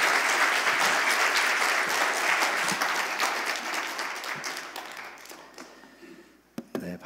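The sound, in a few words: congregation applause welcoming speaker at church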